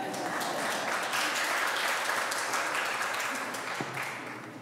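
A forum audience breaks into dense, steady applause that fills the space evenly, tapering slightly toward the end with a faint voice underneath.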